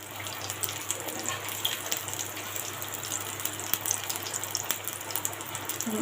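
Egg parathas fry in a small amount of oil, giving a steady, close hiss with a faint crackle that runs unbroken and alone throughout, with no talking.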